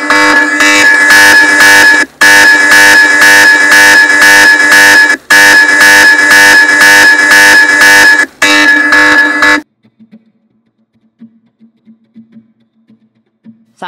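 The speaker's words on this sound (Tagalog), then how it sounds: "Sa alarm pa lang napakalakas na" A piercing electronic alarm bell from an Oukitel WP22 rugged smartphone's loud speaker at max volume rings loudly and continuously, broken by three brief gaps, then cuts off, leaving faint quiet ticking.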